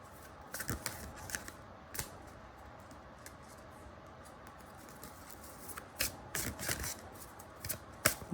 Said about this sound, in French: Je vais tirer une autre carte de ce paquet-là.